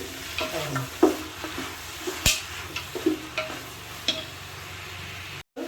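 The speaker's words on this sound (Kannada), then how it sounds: "ಈಗ ನಾನು ಕ್ಲೀನ್ ಮಾಡಿಟ್ಟ ಚಿಕನ್ ಅನ್ನ ಹಾಕ್ತೇನೆ." Chicken sizzles as it fries in seasoning in a pan, stirred with scraping utensil sounds and occasional sharp clinks against the metal.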